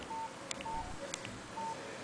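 Keypad button tones from a Nokia 5610 XpressMusic phone: three short, clean beeps spaced evenly apart, close and faint, with no voices.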